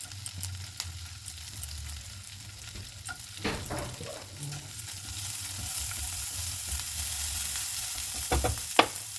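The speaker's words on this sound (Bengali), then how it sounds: "এবার আমি এর মধ্যে রসুন কুচি, আদা কুচি দিয়ে দিচ্ছি।" Chopped garlic and ginger fry in butter with a quiet, steady sizzle, broken by a few spoon scrapes and taps against the pan, close but fairly soft.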